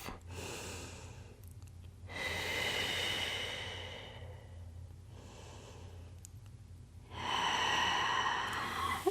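Deep breathing during a home Pilates workout, with several long, audible breaths that come and go in slow waves, close to the microphone and alone, without talk.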